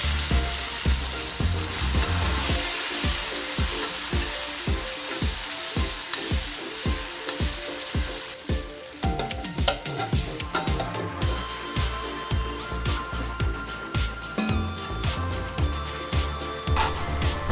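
Sliced onions and green chilies frying in a tempering of spices, a loud continuous sizzle close up with rhythmic stirring scrapes of a spatula against the pan throughout.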